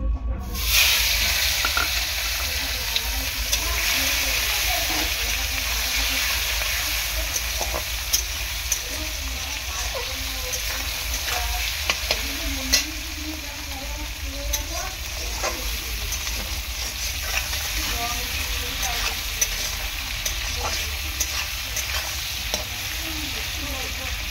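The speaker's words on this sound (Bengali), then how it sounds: "দিয়ে দিয়েছি হলুদ গুঁড়ো, দিয়ে ভালো করে এই যে চিংড়ি মাছটাকে ভেজে নেব প্রথমে" Prawns tossed with turmeric powder sizzle loudly in a hot wok, a dense continuous frying hiss with scattered spatters and scraping stirs lasting throughout, close and steady.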